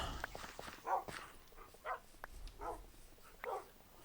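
Dogs in the Minecraft survival game let out a few short, faint barks and yips spaced out over a few seconds, quiet against light game background noise.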